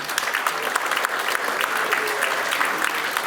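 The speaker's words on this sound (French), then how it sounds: "vous pouvez les applaudir très fort" A packed hall at a 2025 New Year's greetings ceremony in Hautefort Saint-Agnan breaks into dense, sustained applause, many hands clapping at once in a steady, loud wash with no gaps.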